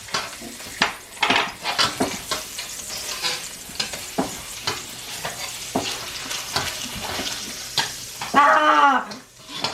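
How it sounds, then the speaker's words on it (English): Garlic frying and being stirred in a hot pan, a steady sizzle broken by repeated scraping strokes of a utensil, close and loud, ending in a brief sharper burst. "We're gonna put the garlic in."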